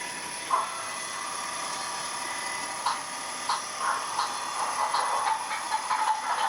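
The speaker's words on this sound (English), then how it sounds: "Now Susan starts up the class 47" A Bachmann class 47 model diesel locomotive's sound system hums and rumbles steadily, with recurring clanks and hissy bursts from two small speakers, no voices.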